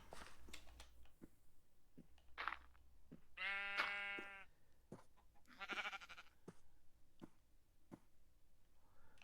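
Sheep bleat in a video game, a few separate mid-pitched calls with one longer, clearer bleat, over a quiet background with scattered soft clicks.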